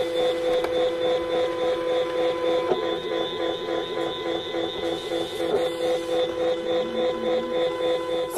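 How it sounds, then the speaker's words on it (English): Silhouette SD cutting machine cutting a stencil, giving a steady, continuous whir with a rhythmic mechanical buzz of the carriage moving back and forth, close up and alone. "we're ready to press cut on our computer screen, and you'll get to see the machine do its work"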